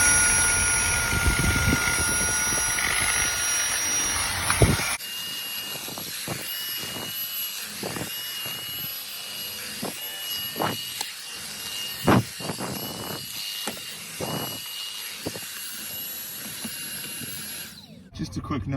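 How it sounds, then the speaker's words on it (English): A handheld Dyson vacuum cleans a car floor mat, a steady high whine with sharp bursts of suction as debris is drawn in, close up and continuous with brief changes in pitch. "And then you just vacuum the mat"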